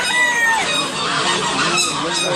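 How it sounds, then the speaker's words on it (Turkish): Several geese honking loudly and repeatedly at close range at a bird market, their calls overlapping with other noisy poultry, including ornamental chickens and turkeys, in a busy, crowded space. "Kazlar var."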